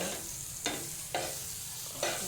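Butter sizzling in a pan while a sandwich toasts makes a steady close hiss, punctuated by three crisp scraping or tapping knocks at regular intervals.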